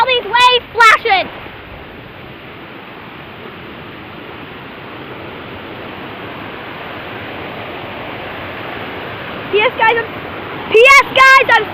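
Loud, steady rushing of water pouring from the Orting Rain Catcher, a broad continuous roar like a small waterfall, with a person shouting briefly at the start and end.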